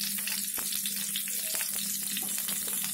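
Mushrooms, onion petals and a bay leaf fry in oil in a kadai, giving a continuous close crackling sizzle with faint stirring clicks and no speech.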